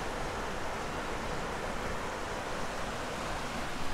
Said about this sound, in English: Pretty nice river.